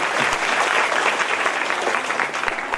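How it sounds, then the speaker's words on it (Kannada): Audience applause at a Kannada-language public event, dense and steady clapping from a crowd sustained for the whole stretch without any talk. "ನಿಮ್ಮ ಜೋರು ಚಪ್ಪಾಳೆ ಮೂಲಕ ನಿಮಗೆ ಅದು ಅಭಿನಂದನೆ ಸಲ್ಲಿಸಬೇಕು"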